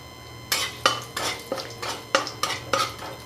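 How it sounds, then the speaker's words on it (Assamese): A utensil stirs rohu fish curry with bay leaf and a little sugar in a pan, giving eight sharp metallic scrapes and clanks in a fairly steady rhythm over a low background hum. "এতিয়া লৰাই দিছোঁ।"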